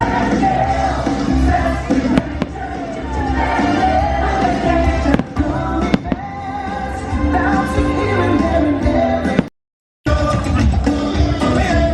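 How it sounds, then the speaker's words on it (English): Fireworks at a bonfire night crackle and bang continuously amid a loud, cheering crowd, with sharp reports cutting through the steady roar and a brief drop-out near the end. "Oh, the fireworks."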